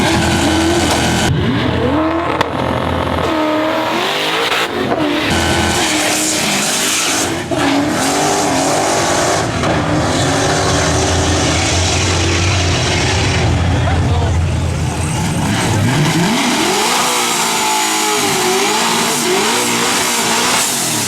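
At a Cherokee Cash Days drag race, a turbo car and a nitrous Fox Body with a stock bottom end launch and scream past, loud engines revving hard with tire noise and the roar rising and falling.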